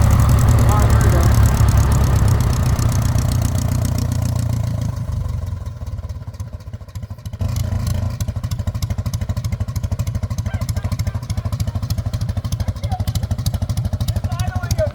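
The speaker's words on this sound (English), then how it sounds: "It's idling at 400 RPM. And it likes it, which is weird." A 77-year-old airplane engine idles at about 400 RPM, loud and close, with a slow, even pulsing rhythm that drops briefly in the middle before resuming steadily.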